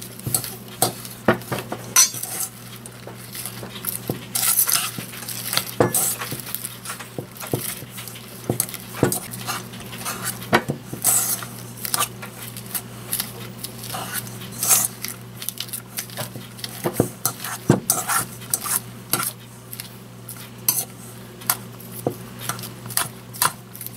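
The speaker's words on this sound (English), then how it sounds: "We're going to use a fork to mix this together" A fork clinks and scrapes against a bowl while mixing soft cream cheese dip, a busy irregular series of close taps and stirring scrapes throughout.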